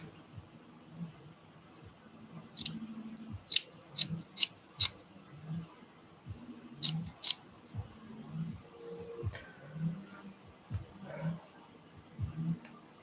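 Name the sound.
scissors trimming an art doll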